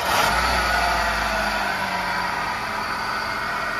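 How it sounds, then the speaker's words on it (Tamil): A flood-damaged Hyundai Santro car engine starts and runs, giving a loud, steady broadband roar with a deep low rumble that fades after the first moments; no one speaks. "இப்போ நான் இந்த வண்டியை ஸ்டார்ட் பண்ணுறேன்."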